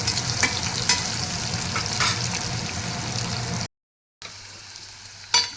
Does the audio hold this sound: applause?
no